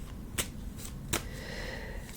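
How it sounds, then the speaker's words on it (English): A deck of cards shuffled quickly during a ritual reading, two or three sharp riffling bursts, close and fairly quiet, separated by brief pauses and with no talking. "I'll just do a very quick shuffle."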